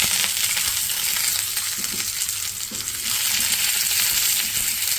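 Sweet potatoes fry in oil or ghee on a large tawa, a loud, continuous sizzle filling the space with steady crackling hiss and occasional stirring scrapes, no voices over it.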